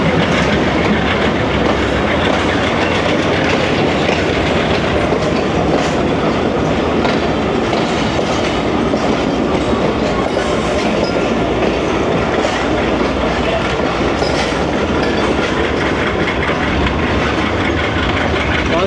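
The 14 Down Awam Express passenger train pulls into Cantt station with a steady, loud roar of rolling wheels and carriages, a continuous rumble with faint clatter throughout.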